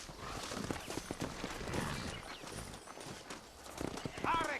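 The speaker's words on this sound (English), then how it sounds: "Arre, caballo, arre!" A horse in the video game Red Dead Redemption clip-clops along in a steady hoof rhythm, and a whinny rises near the end. A voice talks over the hoofbeats.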